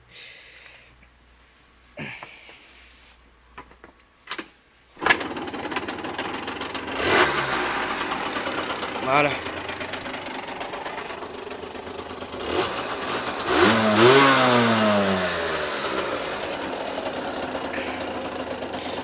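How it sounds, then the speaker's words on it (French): A restricted motorcycle engine cranks a few times, catches around the midpoint, then runs with uneven revs rising and falling, loud and close, with a brief spoken word early. "Et si je vous montrais le son de ma moto un peu?"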